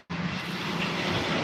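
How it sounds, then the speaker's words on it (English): An Airbus A319 landing at London Heathrow airport gives a steady, broad engine roar that rises in abruptly and holds loud and continuous. "Get ready for this United Airlines 767 just after this A319 drops down."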